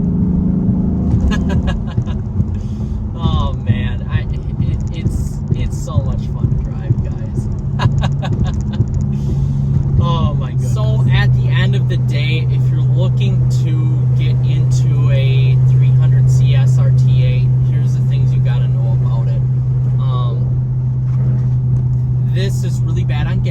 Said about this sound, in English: the intake noise in this 300 is a lot more than my Challenger SRT and even my Jeep SRT